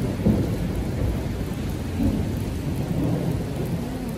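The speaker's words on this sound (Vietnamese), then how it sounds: "Trời gầm lớn chưa cả nhà." Heavy rain pours steadily during a downpour in Germany, a dense close hiss with low thunder rumbling through it throughout.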